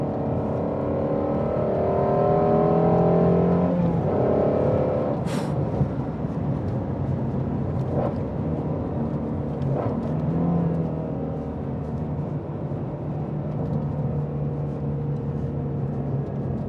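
A Ford Mustang GT350R engine drones steadily while driving. The tone rises as the car speeds up and falls back, with a few sharp ticks and bumps over the rumble.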